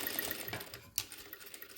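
A sewing machine stitches fabric along an edge, a quiet steady close mechanical whir with a brief sharp clack near the middle and no voices.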